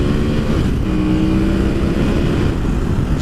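A full-throttle run on an Aprilia Caponord motorcycle, its engine roaring loud and steady throughout with a rising tone and continuous wind noise, no voices.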